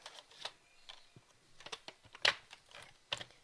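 A paper trimmer slices designer series paper with a few faint, sharp clicks and short scraping strokes, quiet and close with no speech.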